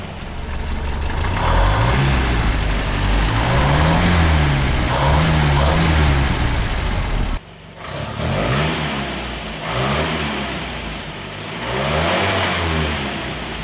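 A Land Rover engine, running rough, idles and then revs up and down repeatedly, stumbling briefly as the throttle opens. It is loud and close, with a short drop in level midway.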